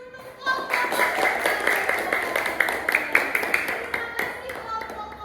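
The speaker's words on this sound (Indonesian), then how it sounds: "Beri tepuk tangan untuk kelompok komputer." Classroom applause for a student group that has just presented, a dense burst of many hands clapping that rises quickly and carries on steadily for several seconds with some voices mixed in.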